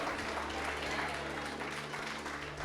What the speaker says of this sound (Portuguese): Você pode aplaudir e glorificar o nome do Senhor.